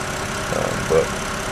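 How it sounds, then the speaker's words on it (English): A BMW engine with an intermittent ignition misfire from a failing coil idles in a steady, loud drone, broken by a brief uneven stumble about a second in. "you can see that it holds steady even when you hear the miss in the engine"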